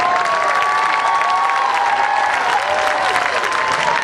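A large crowd cheers and applauds steadily around a stadium track as emergency services teams parade past at a Special Olympics opening ceremony, with dense continuous clapping and shouting and some children's voices mixed in.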